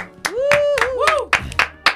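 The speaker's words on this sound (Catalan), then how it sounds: "Segon aplaudiment del capítol!" Podcast hosts clap several sharp, close claps in a quick irregular burst, mixed with a voice calling out and laughing over them.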